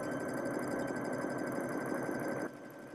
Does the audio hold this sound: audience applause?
no